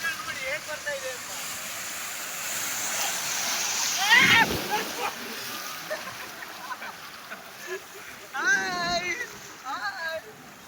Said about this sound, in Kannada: ಅಲೆಗಳು ನೋಡಿ ಹೇಗೆ ಬರ್ತಾ ಇದೆ ಅಂತ.